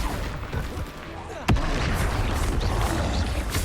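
A Confringo fire spell blasts in Hogwarts Legacy, a sharp explosive crack at about a second and a half standing out over a constant loud bed of game noise and combat effects.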